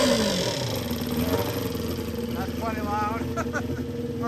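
A motorcycle idles with a loud, cut-out stock exhaust, a rough, continuous engine rumble beneath someone talking in a workshop.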